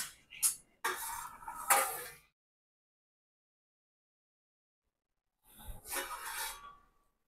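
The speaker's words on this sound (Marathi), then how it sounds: "मी जरा 2 मिनिटं यावर झाकण ठेवते।" A lid is set on a pot of cooking rice flour dough for ukad, giving a few quick metallic clanks and scrapes, then silence, then another short burst of handling noise.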